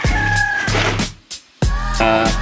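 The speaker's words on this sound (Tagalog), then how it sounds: "Dito tayo ngayon sa range ng mga free range chicken natin." Free range chickens on a farm, with loud nearby clucking and a rooster-like call repeating in bursts, broken by a short pause before the flock noise returns at full strength.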